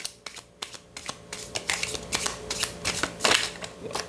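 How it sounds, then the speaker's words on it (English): A deck of playing cards is shuffled for a tarot-style spread, sharp riffling flutters and soft taps in quick uneven bursts, close and fairly quiet. "here we go, the last shuffle"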